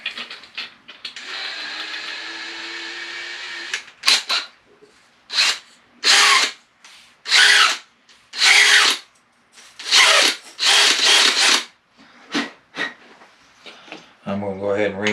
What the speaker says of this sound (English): You really don't even need a power reamer, but I'm going to use it anyway